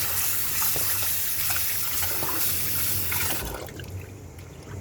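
Water gushes into a pot of soaked rice to wash it again, a loud continuous pour and slosh close up that eases off and turns to gentler swirling toward the end.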